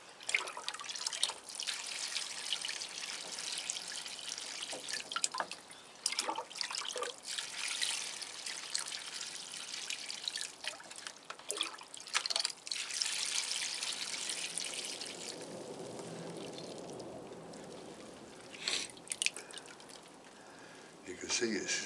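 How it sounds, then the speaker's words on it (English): Water trickling and dripping as a Cattleya orchid is immersed and watered, a soft irregular splashing at close range that runs on and off beneath intermittent speech. "Make sure it gets a good watering."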